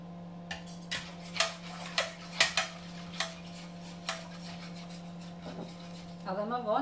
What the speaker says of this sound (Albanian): E përzijem derisa çumështi fillon të trashet.